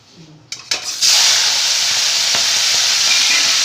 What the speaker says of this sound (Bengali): তেল আমার গরম হয়ে গেছে এবার আমি চিংড়ি মাছটাকে ভেজে নিচ্ছি